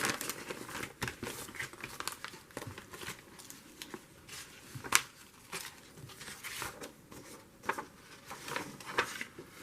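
Sheets of paper crinkle and rustle as they are handled and turned over for bookbinding craft work, a close, quiet run of irregular crackles and soft taps with no talking.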